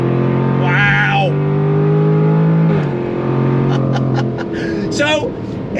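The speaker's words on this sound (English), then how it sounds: "it's incredible that deep V8 grunt sound that you're getting" A 2024 Jaguar F-Type R75 with a V8 engine accelerating under manual paddle shifts: a deep, loud, steady engine drone that rises, shifts near the third second, then continues, with someone talking over it.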